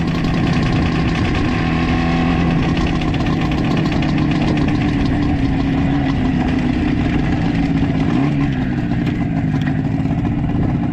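An IZh Jupiter 4 motorcycle engine runs steadily at idle, a loud, close, continuous mechanical drone with a rough knocking pulse, unbroken for the whole stretch without any voices.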